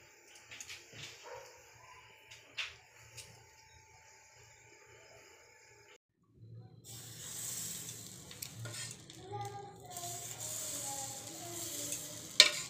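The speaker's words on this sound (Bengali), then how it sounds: "দেখো অনেক কটাই ভাজা হয়ে গেছে, কিন্তু পুরোটা ভেজেই নেব" Chitoi pitha rice cakes cook in a pan. Scattered soft knocks and a faint dog bark come first, then after a short silence a steady, moderate sizzle continues to the end.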